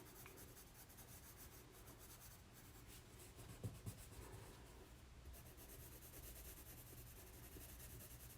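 A graphite pencil shades and draws on paper with a faint, continuous scratchy rubbing, quiet and close, broken by a couple of soft taps midway.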